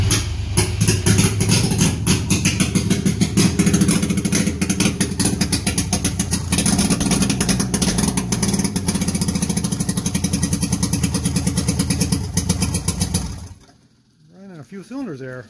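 An old black two-stroke DKW motorcycle, long unused, runs with a loud, rapid, uneven popping idle close by for about thirteen seconds, then dies away, leaving a few falling whirring tones.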